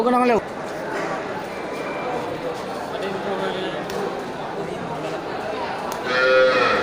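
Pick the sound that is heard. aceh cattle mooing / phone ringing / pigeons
aceh cattle mooing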